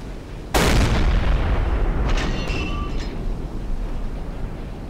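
A submarine deck gun fires a single loud, booming shot in the naval game Silent Hunter 3, and the blast rings out and rolls away over a steady background rumble.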